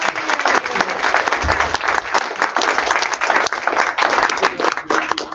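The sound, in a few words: audience applause at a membership meeting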